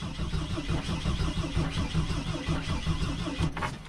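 A Mercedes Sprinter van with a fuel pump problem cranks on its starter without firing, giving a steady, continuous churning drone at close range that runs the whole time and then cuts off near the end.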